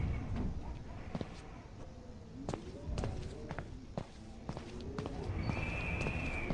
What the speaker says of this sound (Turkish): Adım sesi geliyor.